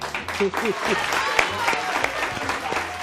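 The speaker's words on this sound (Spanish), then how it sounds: "Aplaudan" Studio audience clapping during a Spanish TV talk-show interview, a moderate, steady patter of applause that runs throughout with a voice talking over it.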